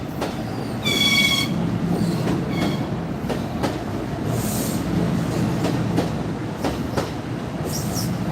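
An Amtrak train rolls past on the Northeast Corridor, a loud, steady rumble of wheels with rhythmic clicks over rail joints and short metallic squeals, heard close and without talking.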